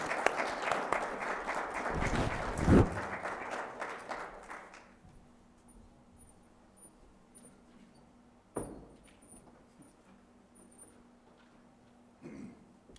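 A short burst of audience applause at an affordable-housing city event, moderately loud clapping that fades out within a few seconds, leaving a quiet room with a few scattered knocks and rustles.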